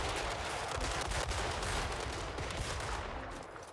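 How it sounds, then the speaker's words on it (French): Percussion arquebus fired in a historical strategy video game, a dense burst of loud overlapping gunshots crackling steadily for several seconds before easing off slightly near the end. "C'est une arquebuse à percussion."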